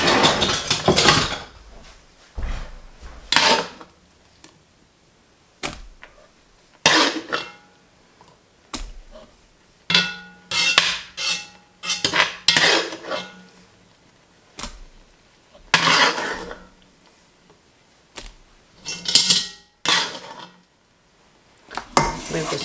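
Homemade apple sauce scooped from a bowl with a scoop: a string of short clinks and scrapes on dishware, spaced irregularly with quiet pauses in between, close and moderately loud.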